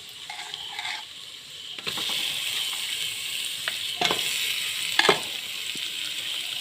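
Mutton is stirred and fried in a pan, giving a steady close sizzle throughout with scraping clinks of a spatula against the metal, sharpest near the end.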